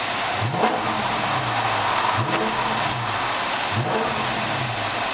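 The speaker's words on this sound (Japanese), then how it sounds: "じゃあちょっとエンジン吹かしてみます。" A 2016 Dodge Charger R/T Scat Pack engine revs three times in a steady rhythm, each blip rising sharply and falling back to a deep idle, close and loud with no talk.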